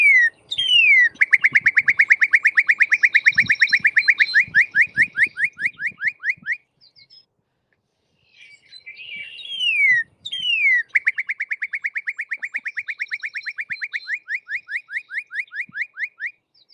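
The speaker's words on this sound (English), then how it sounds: "I'm going to play what this sounds like when the bird does it. The cardinal." Loud, clear cardinal song: repeated rapid series of sharp whistled chirps, sliding downward then pulsing evenly, sung in two long phrases with a short pause between.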